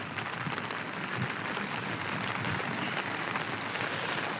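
Steady rain falls outdoors as a dense, even hiss of drops with no pauses, close and moderately loud throughout.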